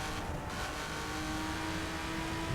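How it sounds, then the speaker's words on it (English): City traffic in The Crew video game, a steady wash of car engine hum and whirring tires with a constant drone running through it, loud and unbroken, no talking. "A lot of traffic, city."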